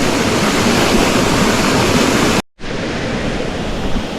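Kao Jone waterfall in Suan Phueng, Ratchaburi, pours with a steady, dense roar of rushing water, broken by a single brief cut to silence partway through.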